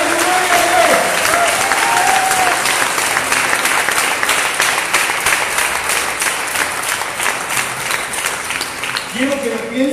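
A church congregation bursts into loud, sustained applause during an evangelical sermon, rhythmic clapping that falls into a steady beat, with brief voices and shouts rising over it at the start and end.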